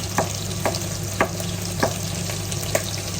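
Steady close sizzling of diced meat frying in a pan for pea soup, with regular light scraping taps as it is stirred; no voices.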